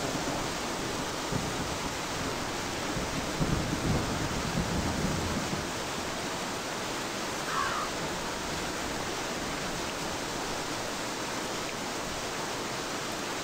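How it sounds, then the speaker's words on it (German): Heavy storm rain in the game The Goatman: a steady, dense hiss of downpour that runs without a break, with no clear thunder rising above it. "Aber irgendwie das Unwetter lässt gar nicht nach."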